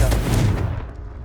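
Confringo blasting curse cast in the Hogwarts Legacy video game: a single loud, close explosive boom with a heavy low rumble that decays within about a second.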